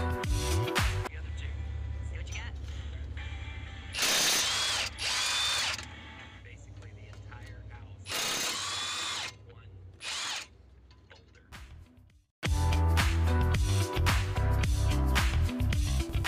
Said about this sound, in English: 17mm caliper bracket bolts